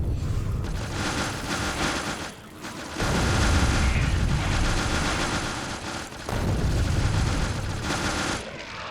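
Rockets fired at biters in Factorio, dense bursts of explosive fire and booms in long rolling volleys, broken by two short lulls, loud and close.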